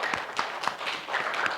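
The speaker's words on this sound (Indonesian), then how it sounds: "Jadi tepuk tangan ya." A small group of students in a classroom clap briefly, with light scattered claps that come soft and fairly close over a quiet room.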